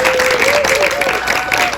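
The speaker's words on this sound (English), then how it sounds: "Let's give one more round of applause." An audience claps in a continuous round of applause, loud and dense, with a sustained tone running underneath.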